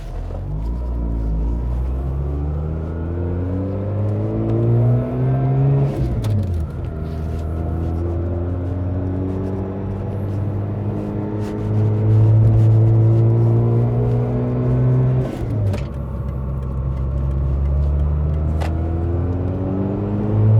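A turbocharged Mazda RX8 with a Renesis rotary engine revs on a dyno, its loud droning note climbing steadily through long pulls, dropping sharply twice and rising again, close and continuous.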